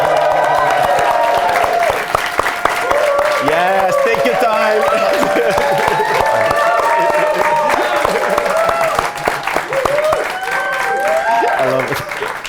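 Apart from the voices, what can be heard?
audience applause for guest Lilly Akuma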